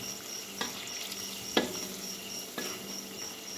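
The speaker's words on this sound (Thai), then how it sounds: "เราจะต้องผัดให้สุกนะแล้วเราก็ใส่สตอทีหลัง" Pork stir-frying in a pan with a faint, steady sizzle and a few soft spatula scrapes and taps spaced about a second apart, quiet and close, with no talking.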